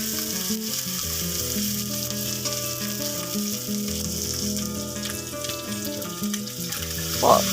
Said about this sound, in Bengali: এবার আমি ভাজা পটলগুলো দিয়ে দিলাম। দিয়ে ভালো করে নেড়ে চেড়ে ভালো অনেকক্ষণ ধরে আমি পটলগুলো মশলার সাথে ভালো করে নাড়তে থাকবো।